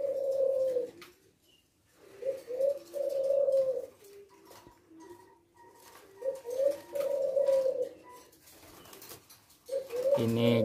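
A male silver leopard tekukur dove coos in repeated rhythmic phrases, each a soft rolling call separated by short pauses, close and clear against a quiet background.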